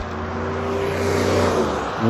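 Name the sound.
cars passing by on road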